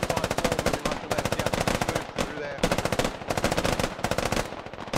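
Rapid machine gun fire in a tactical shooter game, Operation: Trespass, rattling in long sustained bursts separated by brief pauses, loud and close throughout.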